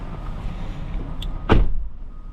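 A 2020 Honda Odyssey Elite minivan door opens as someone climbs inside, with low background rumble and then a single loud, close thunk of the door and body.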